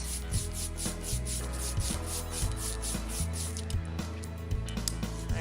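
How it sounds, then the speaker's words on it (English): Ink roller rolling back and forth over a sticky printmaking ink plate, a steady tacky rubbing and crackling texture with faint rhythmic strokes, quiet and alone. "Now I can really hear that sticky noise."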